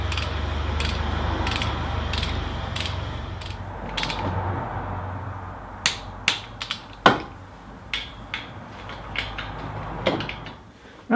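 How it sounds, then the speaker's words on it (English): A ratchet clicks in short bursts and single sharp ticks while exhaust manifold bolts are torqued down on a 4x4 engine, sporadic and close over low background rumble. "I'm just going to torque them all down to 45 Newton meters"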